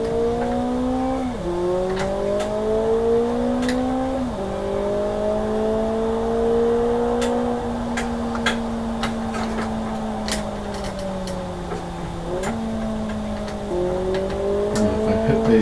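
A car engine in a sim racing video game revs up and down in long smooth sweeps with gear-shift dips, loud and steady, with faint ticking clicks over it.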